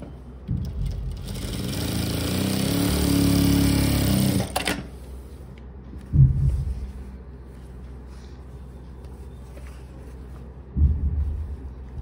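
Sewing machine stitching fabric for a formal pant, a close, loud steady whir running for about four seconds, then stopping, followed by a couple of short thumps of handling.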